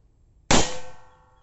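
A single air-gun shot fires a bulk pellet into a metal target, giving one sharp crack and a bright metallic clang that rings out and fades over about a second.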